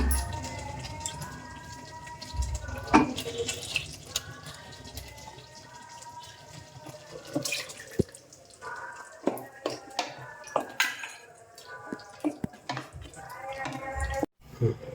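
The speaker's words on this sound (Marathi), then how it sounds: "थोडंसं इथं पाणी घेते मी." Water is poured into a pan of spiced brinjal masala cooking in oil, a soft liquid splash and trickle over busy kitchen clatter, with a few sharp knocks and a faint voice in the background.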